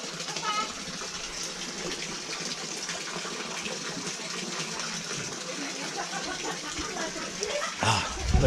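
Water from the medicinal spring at Um Dawai gushes and splashes in a steady, close rush, with voices talking faintly beneath it and a brief louder splash near the end.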